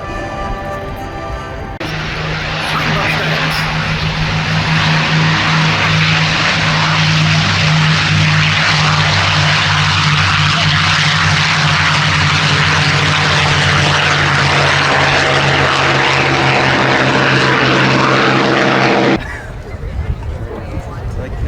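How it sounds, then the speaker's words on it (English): A propeller aircraft flies past at the Duxford air show, a loud droning engine roar with steady propeller hum that swells, holds for many seconds and then cuts away, with crowd noise in the background. "And that aircraft was flown for us today by John Gowdy"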